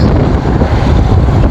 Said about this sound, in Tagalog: kasi nga malakas yung hangin